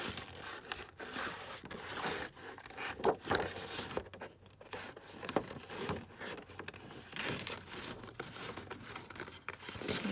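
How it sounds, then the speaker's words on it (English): Scissors cutting thick, sturdy 250 GSM cardstock for a collaborative art journal, a run of close, quiet snips and paper scrapes at an irregular pace with no talk. "So I'm just going to cut that down like that."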